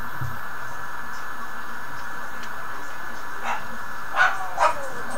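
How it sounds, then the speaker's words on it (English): A dog barks in a house in the background, two or three faint, sharp yips near the end over a steady hiss. "that's my dog barking in the background"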